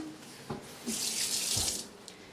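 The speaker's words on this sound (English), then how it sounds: "We're going to rinse it." Green onions rinsed under a running kitchen faucet: a steady hiss of tap water lasting about a second, close and fairly loud, with faint clatter before and after.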